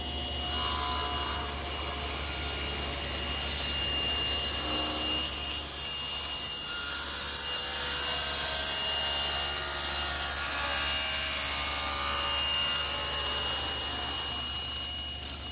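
Table saw cutting tapers on wooden legs using a jig against the rip fence, a steady loud motor whine with a rough, grinding sawing roar as the wood is pushed through, continuous and close.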